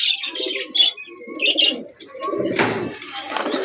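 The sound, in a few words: pair of beauty pigeons cooing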